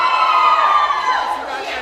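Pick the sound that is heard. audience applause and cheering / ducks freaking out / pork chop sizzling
audience applause and cheering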